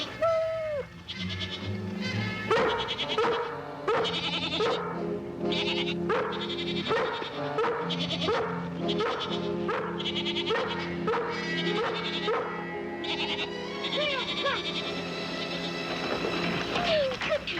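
Goats bleating repeatedly in quick, overlapping calls as a dog herds them toward a farm corral, the bleats steady and fairly close throughout with a busy, continuous background.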